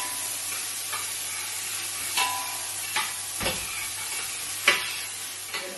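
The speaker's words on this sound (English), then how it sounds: "Stir it." King prawn egg fry with onion, garlic and green chili sizzling steadily in a pan, broken every second or so by the scrape and knock of a stirring spoon.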